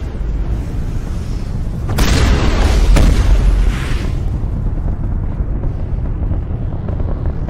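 Biotic powers in Mass Effect set off a booming explosion around the two-second mark, followed by a second sharp blast, then a rumbling tail that fades under a steady low background roar.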